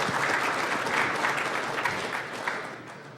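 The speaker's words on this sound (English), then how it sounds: "Warm round of applause" Dense, steady applause from a conference audience greeting a talk at ShmooCon 2013, a security event. It fills the whole stretch without speech and tapers slightly toward the end.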